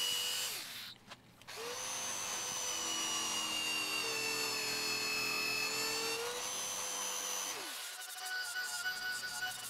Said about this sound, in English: Then with the jigsaw, I just cut out all those sections.